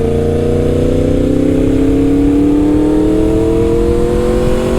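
A motorcycle engine climbs steadily in pitch as it pulls hard through the gears, loud and close with a continuous rising drone and no speech.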